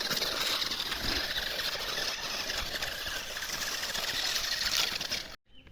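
A tractor engine roars steadily during off-road driving, a dense, loud mechanical drone with rattling vibration that holds throughout, then cuts out abruptly near the end.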